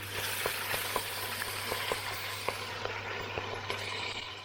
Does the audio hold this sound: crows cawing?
no